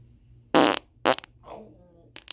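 Comedic fart sounds, two loud close blasts followed by a softer rumbling one and a final short burst, with a voice talking around them.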